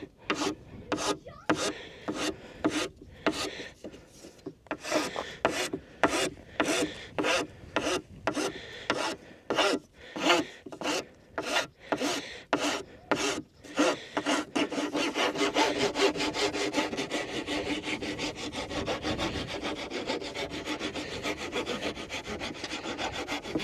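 Rhythmic rasping strokes of a power tool working wood while making a garrocha, evenly paced at first, then blending into a continuous grinding whir; close and fairly loud, no talking.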